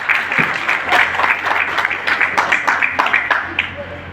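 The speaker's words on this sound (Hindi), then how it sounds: "सभी इज्जतदारों के लिए तालियां।" An audience at a Hindi-language motivational talk claps in a lively burst of overlapping handclaps that rise and fall, then thin out toward the end.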